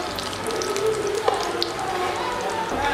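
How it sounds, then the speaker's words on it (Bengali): Potato tikkis frying in oil, a continuous even sizzle with occasional small crackles, steady and fairly close with no talking. "আলুর টিকিয়াগুলো তেলের মধ্যে দিয়ে দিচ্ছি এবার আমরা আস্তে আস্তে করে ভেজে নেব"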